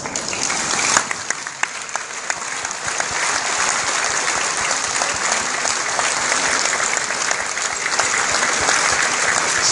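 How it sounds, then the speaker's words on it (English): A convention audience at a Gideons International national gathering rises and applauds warmly, producing a loud, dense, continuous wash of clapping from a large crowd that holds steady throughout. "to please rise and let's give them a warm round of applause"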